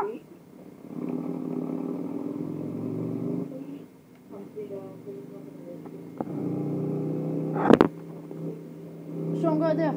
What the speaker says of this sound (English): Yeah, motorbike. I like motorbikes. Especially Harleys.